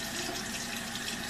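Water sprays or runs steadily onto deep wave hair, a close, continuous hissing flow of even loudness with no talking.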